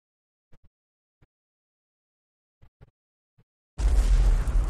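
Turret fire and explosions from a top-down shooter video game: a few faint, scattered pops, then a sudden loud, sustained blast of booming noise that fills the final second.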